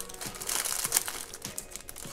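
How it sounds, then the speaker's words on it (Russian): A small plastic candy packet from a surprise toy set being torn open, giving a close, quiet crinkling and rustling with a few sharp tearing crackles, no voices. "И пакетик открываем."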